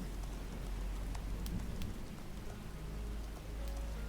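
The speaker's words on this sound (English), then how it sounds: "The rain sound is very nice." Steady rain falls nearby, a dense, even patter with occasional sharper drops and a low rumble underneath, continuous and fairly quiet.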